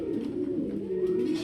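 Pigeons coo at a pigeon farm, a soft continuous low throaty warble close by, with no talk over it.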